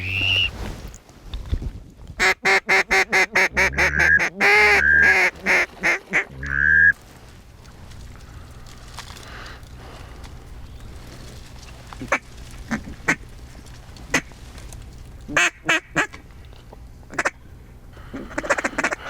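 Ducks quack loudly and repeatedly in rapid bursts close by during a duck hunt, then quieter scattered calls and rustling follow with occasional sharp sounds.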